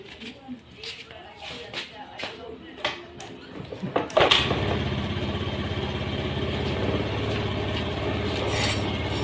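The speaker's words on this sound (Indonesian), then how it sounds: "Coba starter bisa nggak ya?" A Honda Beat scooter with a weak battery turns over in a few short attempts before the engine catches and settles into a steady close idle, with someone talking over the starting attempts.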